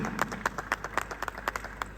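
A small group claps in sparse, uneven beats at a corporate wellness company gathering, the hand claps sharp and fairly close with little crowd noise behind them.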